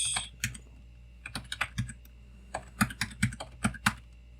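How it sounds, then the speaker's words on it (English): Typing on a computer keyboard while entering user settings during an operating system installation, with irregular bursts of close, crisp keystrokes and short pauses between them. "So here's where you set your name, the computer's name, and your password."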